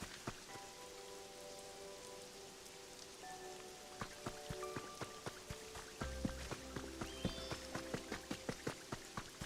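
Rain falls in the video game Pokopia, a soft patter of drops on surfaces with irregular ticking impacts that grow more frequent, backed by quiet musical tones.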